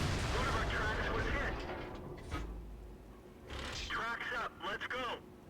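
Tank cannon fire in the World of Tanks video game, with a heavy boom near the middle and further blasts and mechanical clatter toward the end, all under continuous game sound.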